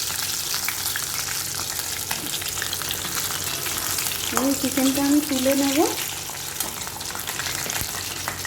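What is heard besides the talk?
chicken pieces frying in hot oil in wok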